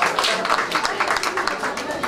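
Applause at a Ukrainian wedding feast, guests clapping in a dense, continuous burst with crowd noise mixed in, fairly loud and close throughout.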